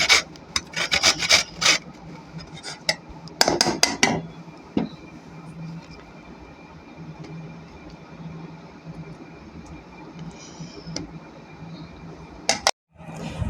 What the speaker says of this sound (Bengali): আলুটা গ্রেট করে নিচ্ছি।